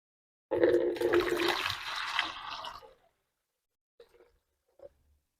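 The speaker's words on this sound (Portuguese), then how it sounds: "Então eu aqueci uma água, vou colocar aqui, vou medir exatamente 1 litro" Hot water, one litre of it, poured out for dissolving copper sulfate in preparing Bordeaux mixture, a gushing splash for about two seconds, then silence broken by two small faint knocks.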